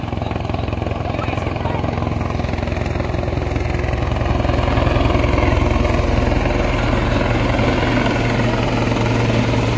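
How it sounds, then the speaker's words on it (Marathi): A helicopter descends to land, its rotor beating in a loud, steady, throbbing roar that fills the whole stretch without a break and with no voices. "हेलिकॉप्टर बघा हेलिकॉप्टर खाली खाली खाली खाली"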